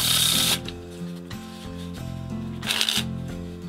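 A deck of yellow Bicycle playing cards is faro shuffled in two close, crisp riffling bursts, with quieter card handling and faint background music in between.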